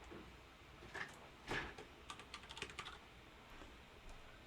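Computer keyboard typing while writing code, a sparse run of soft, quick clicks with a few louder key strikes, close and faint against a quiet room.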